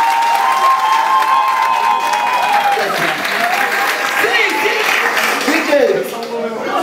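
An audience at a live comedy show during an Easter fiesta in Turin breaks into loud, sustained applause and cheering, with voices talking over the clapping throughout.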